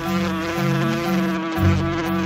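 A fly buzzing as a storybook sound effect: a loud, continuous, close drone with wavering pitch that rises and dips briefly, heard alone without speech.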